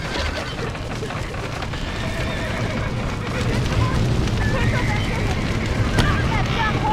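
Horses whinny and snort inside a Brazilian farm video game as they are let out of a barn, the calls rising over a busy mix of game ambience and hoof-like clatter, with people talking over it.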